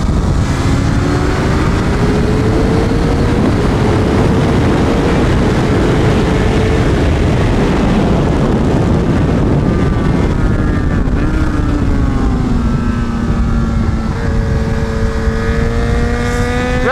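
A Kawasaki ZX6 motorcycle racing around a track, with loud, continuous engine drone and gliding pitch sweeps as it accelerates and shifts, mixed with heavy wind noise.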